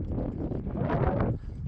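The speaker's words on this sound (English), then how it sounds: "It's windy." Wind buffets a microphone in a continuous low, gusty rumble for a brief moment, with no clear voices, while scrambling on a rock slab in the Flatirons.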